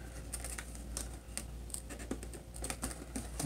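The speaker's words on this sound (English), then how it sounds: "So let's go ahead and cut open the box" A Nerf Fortnite Microshot blaster box being cut open, with a run of close, scratchy ticks and rasps from the cutting over a constant low hum.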